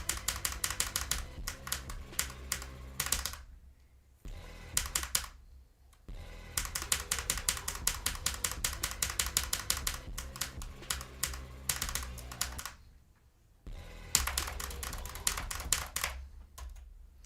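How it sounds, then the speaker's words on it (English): Rapid keystrokes clatter on a Razer Huntsman V2 keyboard, coming in dense bursts of close, crisp clicks separated by short silent pauses, with no talking. "Razer Huntsman V2. Because it is a keyboard."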